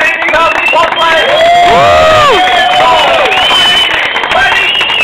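Crowd at a Jawa motorcycle grand prix in Bernolakovo cheering and clapping loudly, with shouting voices and a close announcer-style voice over the noise.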